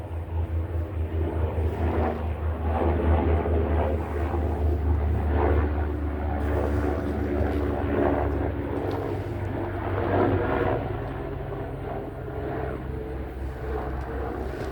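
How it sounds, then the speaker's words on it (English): A police helicopter flies overhead, its engine and rotor making a steady, loud drone that lingers for the whole stretch with little change, and no voices over it. "That's a police chopper."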